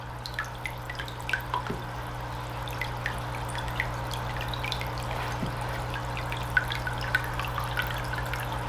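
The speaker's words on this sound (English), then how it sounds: "And it's going to flow down and make a waterfall." Water trickles down rocks into a small bonsai pot tank waterfall, with soft, irregular drips and splashes over a low steady hum, quiet and close.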